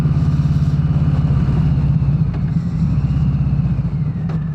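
A Harley-Davidson Sport Glide motorcycle pulls away under throttle, its deep, loud, throbbing engine pulsing close and strong as it accelerates over a few seconds.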